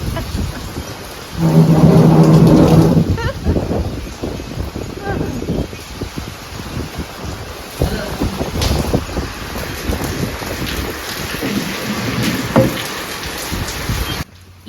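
Steady rain falls throughout, with a loud low rumble early on and a voice speaking intermittently over the downpour.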